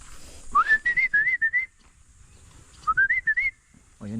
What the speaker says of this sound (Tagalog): Galing yung mga kalapati kapag narinig na yung sipol ko.